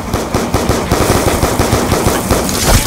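Rapid automatic gunfire from Call of Duty Black Ops 2 rattles loud and close in a steady, fast rhythm, holding throughout.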